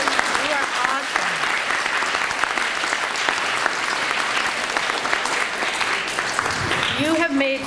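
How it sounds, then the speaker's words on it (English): Students at a school event clapping in a loud, sustained round of applause with some cheering voices, the sound rising into audible shouts and speech near the end. "Give yourself a round of applause."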